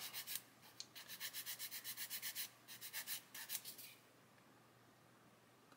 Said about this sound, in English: I might even see if I can sand them. This is a 220 grit sanding stick.